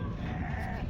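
A single short sheep bleat heard up close at a busy livestock market, with a murmur of market background behind it.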